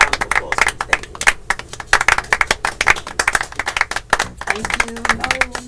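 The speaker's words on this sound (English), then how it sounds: "let's give Sage another round of applause" A small talk-show audience claps for a guest, uneven individual hand claps close and distinct rather than a dense roar, with a voice briefly heard over the clapping.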